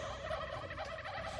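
Many turkeys gobbling at once in the survival video game How to Survive 2, overlapping warbling calls forming a steady, crowded chorus with nothing else heard.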